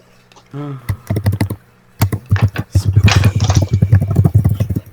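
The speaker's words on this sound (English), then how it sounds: "Who's typing?" Rapid clicking keystrokes of someone typing on a computer keyboard, close and fairly loud, in bursts that grow denser toward the end, with a voice briefly heard early on.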